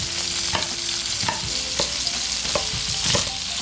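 Short ribs searing in a hot pan give a steady, loud sizzle close by, with occasional sharp knocks and clatters of stirring cutting through it.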